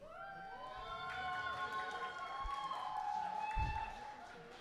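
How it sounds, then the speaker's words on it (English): A crowd at a beetleweight fighting-robot event cheers and shouts, a broad swell of voices that grows louder toward the end, with scattered clapping and thumps. "I want you to cheer as loud as you can for the robot you thought was the winner."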